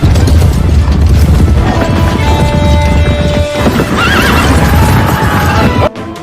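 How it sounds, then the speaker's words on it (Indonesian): A cavalry charge in a war film: loud, dense horse whinnies and galloping hooves that crash forward almost continuously, with a battle din thick underneath and a sudden cut near the end. "mereka lantas mengerahkan kekuatan inti mereka, yaitu pasukan berkuda"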